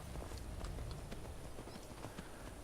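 Horse hooves clip-clop at a steady trotting rhythm as a mount is ridden in the video game Skyrim, quiet and even with a faint background wash and no speech.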